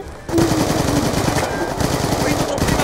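Rapid automatic gunfire in the video game Jailbreak, with close, loud bursts of shots crackling in quick succession for several seconds without a break.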